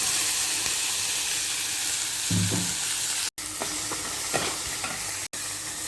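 Ground onion paste lands in a hot tempering of mustard seeds, curry leaves and dried red chillies for onion chutney, raising a loud, steady sizzle close by, broken by a few stirring scrapes and two abrupt cutouts.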